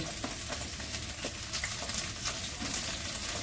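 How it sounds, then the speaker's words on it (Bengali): Carrots and green beans fry together in a pan with a steady, close sizzle and crackle that runs without a break and without any voices. "গাজর বরবটিটা একসঙ্গেই ভাজতে পারো"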